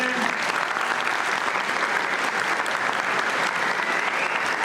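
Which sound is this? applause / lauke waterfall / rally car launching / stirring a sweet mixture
applause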